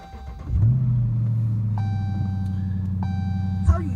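A Dodge Charger or Challenger engine cranks and catches, settling into a loud, steady low idle rumble, with several electronic dashboard chimes ringing over it.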